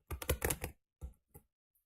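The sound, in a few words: computer keyboard keys being typed on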